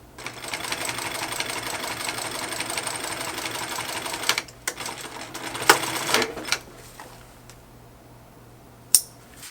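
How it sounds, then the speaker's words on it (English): Sewing machine stitching the bottom panel of a large duffle bag: a steady rapid mechanical whir for about four seconds, then short stop-start bursts and a few handling knocks. "I'm going to sew it all at one time"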